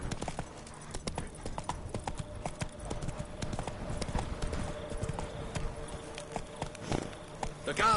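Roach the horse gallops in The Witcher 3, hooves pounding in a quick, steady clip-clop rhythm against a quiet background.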